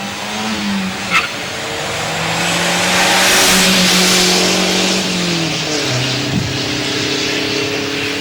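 A Volvo and a Dodge accelerate from a start line in a timed drag contest. Engine noise swells loudly to a peak and then fades, with a brief sharp sound near the start.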